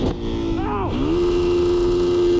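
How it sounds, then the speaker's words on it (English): Motorcycle engine revving up and holding a steady high idle, loud and close, with a short rising-and-falling rev sweep near the start and then a sustained drone. "Why are you revving?"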